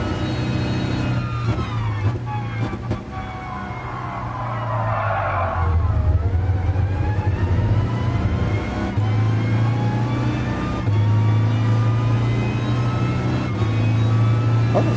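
Engine of a car revving and racing in Gran Turismo Sport, throttle feathered on and off so the pitch rises, dips and climbs again, with tire skids and a steady drone close and loud, no talk.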